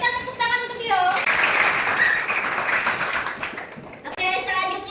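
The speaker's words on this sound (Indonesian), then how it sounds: "Berikan tepuk tangan untuk Tio." A classroom breaks into applause for a student, the clapping a dense, steady burst of many hands lasting about three seconds between a teacher's speech before and after.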